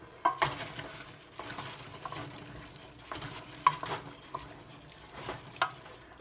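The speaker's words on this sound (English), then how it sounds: "Now mix this all up." Capers and black olives are stirred into a pan of lobster puttanesca, giving irregular scraping strokes over a soft background sizzle, fairly quiet and close.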